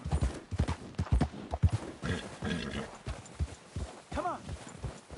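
Horse hooves clip-clop in Red Dead Redemption 2 as a rhythmic run of hoofbeats, with a whinny-like call near the end and game character voices speaking over the steps.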